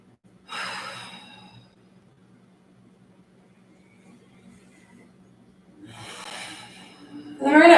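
Two audible breaths taken while holding a crescent lunge yoga pose, a sighing exhale near the start and another deep breath later, separated by quiet with a low background hum.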